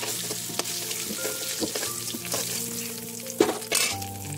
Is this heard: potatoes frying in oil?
yes